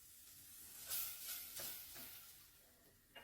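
Tomato juice poured into a hot pan for Egyptian fatteh sauce sizzles and hisses, with a few bursts as it is stirred, the frying settling into a quieter crackle between stirs.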